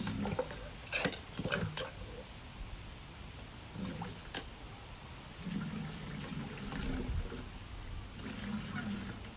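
Water splashes and gurgles in uneven bursts from a pitcher pump during a seal test, gushing out and then trickling, with faint clanks between pours.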